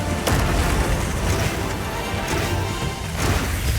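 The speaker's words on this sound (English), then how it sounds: "That sound that it makes when it does those explosions is" Monster explosions in the action game Monster Hunter Wilds, a dense, loud rumbling roar of booming blasts and crashing debris that fills the whole stretch without letup.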